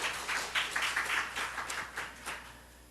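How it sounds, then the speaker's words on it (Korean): A church congregation claps in rhythm during a Sunday sermon, a brief run of fairly close, evenly spaced hand claps that fades after a few seconds. "하나님께 영광의 박수 올려드립니다"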